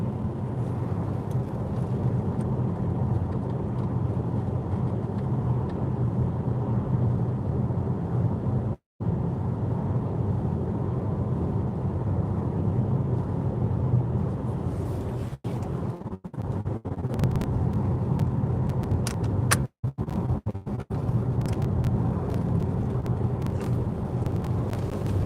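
Steady interior hum of a VW ID3 Pure electric car on a Sunday drive, with road and wind noise constant throughout and a few brief dropouts and small bumps.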